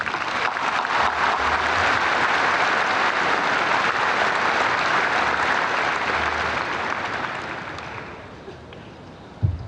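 Audience applause welcoming a guest speaker at a spring 2018 business college commencement ceremony at Michigan State, with steady, dense clapping from a large crowd that holds strong for about eight seconds, then thins and fades away.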